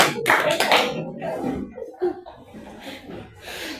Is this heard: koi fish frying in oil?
no